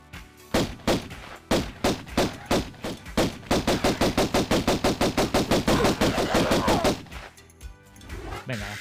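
Gunfire in the classic Tomb Raider video game: evenly spaced loud shots speed up into a rapid, sustained volley, then stop abruptly.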